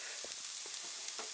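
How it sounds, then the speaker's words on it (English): An onion sautéing in a pan gives off a soft, steady sizzle with a few faint stirring scrapes, quiet and close, heard alone over a brief moment. "I'm sauteing an onion first."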